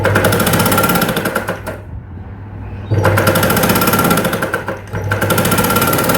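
Sewing machine stitching the seam of a princess cut blouse, close and loud, running in two long bursts of rapid needle chatter with a brief slowdown and pause between them.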